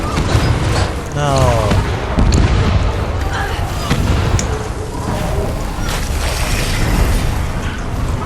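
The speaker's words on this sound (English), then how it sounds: "Blue team, ring the bell. Fire all cannons." Cannons firing in a Guild Wars 2 ranked PvP match: heavy booms and blasts mixed with game effects and clatter, continuous and loud, while a player's voice talks over them.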